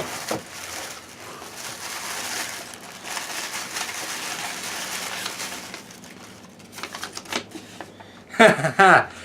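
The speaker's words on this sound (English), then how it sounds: "as I struggle here with the tape" Packing tape on a package crackles and rips in rough, crinkly bursts, up close and moderately loud, ending in a few sharper tearing snaps, with someone talking.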